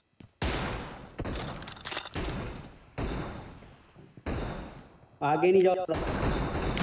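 Rapid bursts of gunfire ring out in PUBG Mobile during a squad-versus-squad team deathmatch, loud, close shots in clusters with short pauses, while players talk over the firing.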